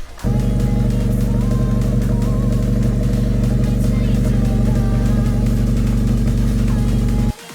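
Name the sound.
car exhaust with custom axle-back revving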